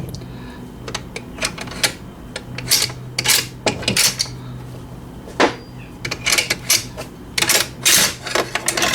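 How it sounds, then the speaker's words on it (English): Metal parts of a Mak 90 rifle clatter and click as the spring and bolt are pulled out, a string of sharp close clacks and slides at an irregular rhythm over a low background hum. "then you can take the spring and bolt out."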